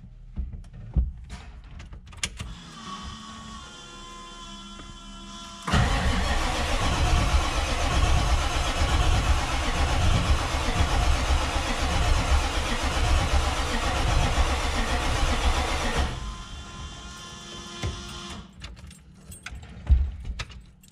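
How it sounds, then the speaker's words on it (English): A truck engine cranks during an attempted start, a loud, steady churning drone that runs for about ten seconds before cutting off, with small clicks and rattles just before and after it. "The important thing is that you crank this thing for about 10 seconds, let it go, let it cool down, and then try again."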